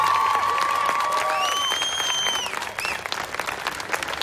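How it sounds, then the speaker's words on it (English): A graduation ceremony crowd gives a round of applause, steady clapping with some cheering, while sustained whistle-like tones sweep over it early on before the clapping continues alone. "let's give him a round of applause"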